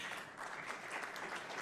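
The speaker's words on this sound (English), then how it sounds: "Round of applause for him" Audience applause at a forum opening ceremony, a brief, faint, diffuse patter of many hands with no distinct claps standing out.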